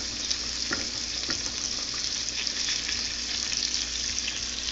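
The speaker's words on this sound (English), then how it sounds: "So here is the meat. It's cooking up pretty nice." Meat fries in a pan while breakfast is cooked, giving a steady, dense sizzle with scattered small crackles and pops, close and continuous with no talking.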